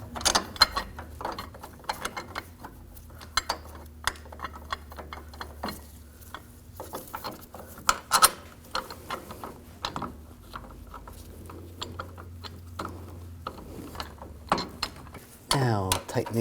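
Bolts are tightened on the driveshaft coupler bracket of a 2007-2013 BMW 328i 3.0L inline-six, with repeated close ratchet clicking and metallic ticks in short bursts against a quiet garage background.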